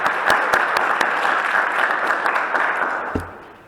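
A conference audience breaks into sustained, loud applause that fills the room and holds steady for a few seconds before fading out.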